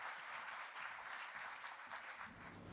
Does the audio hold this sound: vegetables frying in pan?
no